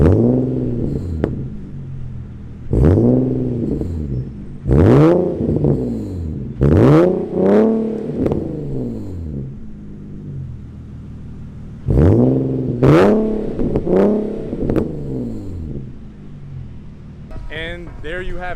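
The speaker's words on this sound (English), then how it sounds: "there's the tone of my exhaust, and now I'm gonna do some revs" A Nissan G37 with a Fast Intentions catback exhaust and test pipes revs repeatedly, each blip rising and falling in pitch, loud and close, with a steady idle rumble between revs.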